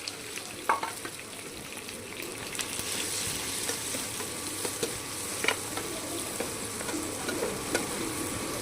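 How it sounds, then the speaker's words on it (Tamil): Chopped onions frying and being stirred in a pan for tomato thokku, a steady close sizzle with scattered scraping clicks of the spoon throughout, no voices. "இப்போ வெட்டி வச்ச வெங்காயத்தை இதில் ஆட் பண்ணிக்குவோம்."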